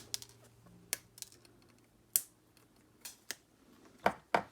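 Cutters snip the component legs on a DIY zapper circuit board: about ten crisp, separate clicks at uneven intervals in a quiet room.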